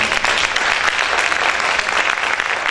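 A church congregation applauds loudly and steadily, dense clapping filling the whole stretch without a break.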